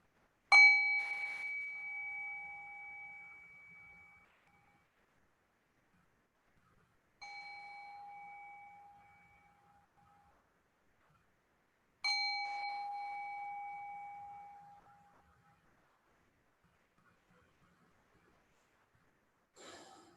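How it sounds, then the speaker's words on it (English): A meditation bell struck three times, each ring clear and sustained with a long decaying tone, separated by silent pauses, alone without talk. "I have a bell here that I'm going to ring 3 times."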